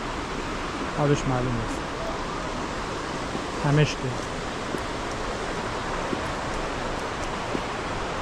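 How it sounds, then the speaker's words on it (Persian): A steady, broad rushing of a flowing river in the historic village of Masuleh, Gilan, Iran, fills the background, with a person briefly talking over it twice. "اون صدای رودخونه میاد"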